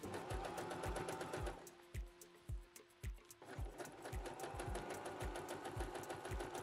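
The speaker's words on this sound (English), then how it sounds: "and then we'll top stitch." Sewing machine top stitching the folded edge of a cargo mini skirt pocket, its needle running in a steady rapid rhythm, briefly slowing into a few separate stitches before resuming at full speed, close and clear.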